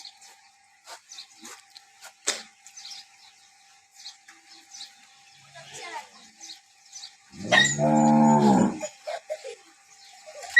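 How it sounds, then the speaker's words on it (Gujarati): A single loud, low moo from a local-breed dairy cow lasts over a second near the end, amid scattered faint clicks and rustles in a quiet setting. "બધી આપણે અહીંયાની લોકલ ગાયો છે"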